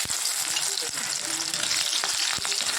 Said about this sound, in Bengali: আগে উচ্ছে ভাজাটা বসিয়ে দিই